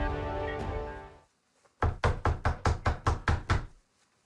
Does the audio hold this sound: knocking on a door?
yes